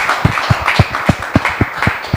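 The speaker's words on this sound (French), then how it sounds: "En tout cas, on l'applaudit bien fort." Applause from an audience at a French-language talk event, a steady run of sharp, fairly loud hand claps in a quick rhythm, heard alone with no talking.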